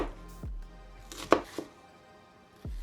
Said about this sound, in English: I am going to be chopping scallions for days.